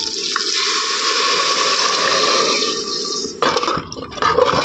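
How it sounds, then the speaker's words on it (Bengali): Water is poured into a cooking pot for preparing rice, a steady close stream running continuously before breaking into a few louder splashing gulps near the end. "এখন এটার ভিতরে জলটা ঢেলে দেবো।"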